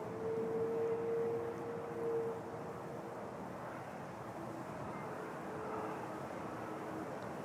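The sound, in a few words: Porter airliner taking off from runway 05 at Toronto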